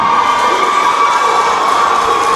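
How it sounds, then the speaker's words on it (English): An audience at a faculty debate contest cheers and shouts loudly and continuously, a dense close crowd roar with no pauses. "Please, a round of applause for the first speaker."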